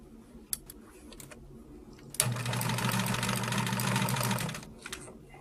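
A sewing machine chain-pieces quilt blocks in one fast, steady burst of rapid stitching lasting a couple of seconds. Faint clicks and handling noises come before and after it.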